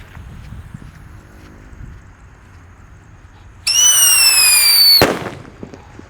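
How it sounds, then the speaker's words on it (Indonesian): A Whistling Thunder firework shrieks with several rising-and-falling whistle tones for about a second and a half, then ends in a sharp loud bang, preceded by quiet ambient noise. "Selanjutnya di sini ada Whistling Thunder."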